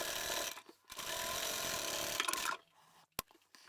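A sewing machine top-stitches a seam on striped upholstery fabric in short bursts, a close rapid mechanical whirr stopping and starting with brief pauses and a small click, no talk.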